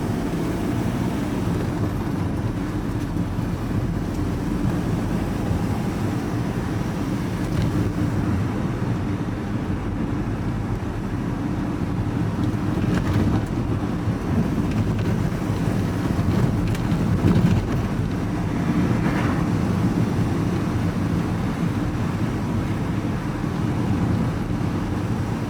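Wind buffets the microphone of a rider cycling through the New Forest, a constant low rumbling roar that swells slightly at times, with no speech.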